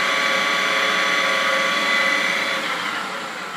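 The spindle of an 18 by 40 inch Fryer CNC/manual lathe with a D16 spindle runs up toward 2000 RPM, giving a loud, steady whirring drone with a tonal whine that holds near and constant, easing slightly at the end.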